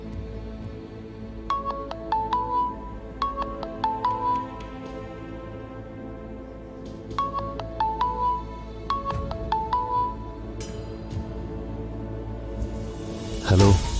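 A phone rings in a dubbed Turkish TV drama scene with a repeating melodic ringtone. Short bursts of bright tones come in regular cycles over a steady low background.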